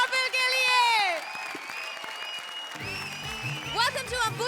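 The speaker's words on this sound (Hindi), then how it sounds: "जोरदार तालियां दोस्तों श्रुति," Studio audience applause on a Hindi comedy show's grand finale, a steady wash of clapping that swells loud early, with a sung or musical voice over it and music entering near the end.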